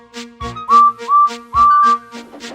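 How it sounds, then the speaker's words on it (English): Steam engine whistle from a goods train, several short tonal blasts in a choppy rhythm, close and clear with no talk over them. "But the petrified whistle that followed wasn't Henry, and it wasn't James"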